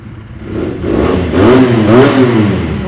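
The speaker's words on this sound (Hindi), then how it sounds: "ये भी, बेनेली 300। साउंड सुना दो" A Benelli 300 motorcycle engine revs up with a throaty roar, rising and falling in pitch, loud and close, with no voices.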